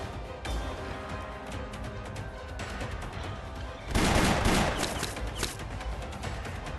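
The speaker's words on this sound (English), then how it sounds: "Let's make up for all those gunshots we haven't heard over the years." Dense gunfire from the video game Arknights, a continuous rattling volley of shots under a busy game soundtrack that swells louder partway through.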